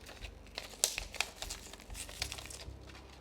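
Thin gelatin sheets being folded, snapped and broken by hand, giving a run of close, crisp crinkling crackles with a few sharper snaps, with no talk.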